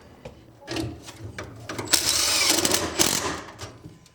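A power driver runs screws into the wood of an off-grid cabin, with whirring bursts of motor and ratcheting, the longest drive in the middle, close by and without talk.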